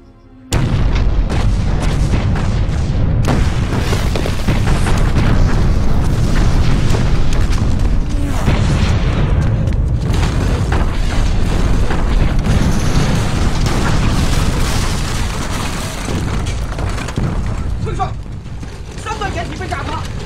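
Artillery shelling blasts in a war movie battle scene, a dense continuous barrage of heavy booms and rumble with a speaking voice over it.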